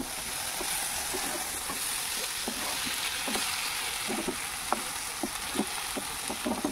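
Marinated small fish fry in hot oil in a wok, giving a dense, even sizzle with scattered light pops and crackles that grow a little more frequent toward the end.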